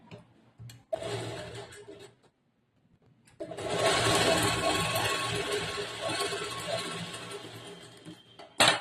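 A sewing machine stitches the lined border of a blouse in two runs, a brief burst followed by a pause and then a longer steady whirring stretch of rapid stitching, close and even.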